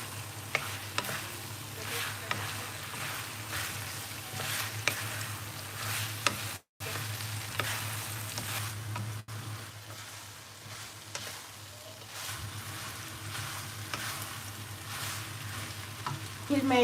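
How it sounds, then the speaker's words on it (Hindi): Soyabean masala pasta frying and being stirred in a pan over a full gas flame, a steady close sizzle with repeated scraping strokes of the spoon throughout, briefly cut off once. "इसे मिक्स कर लेती हूँ। गैस को मैं फुल कर दी हूँ।"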